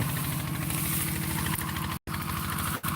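A tractor engine used for ploughing runs steadily nearby, a rough, rattling drone that keeps going with one brief dropout.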